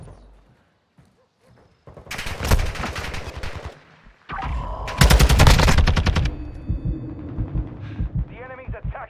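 Call of Duty gunfire rattles in two loud automatic bursts with scattered shots between and after, layered over game sounds, with voices talking during the fight.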